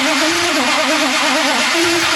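A Dodge Daytona wing car engine cranking with the choke on, a steady loud churning drone with a wavering pitch that holds through the whole stretch, no voices over it.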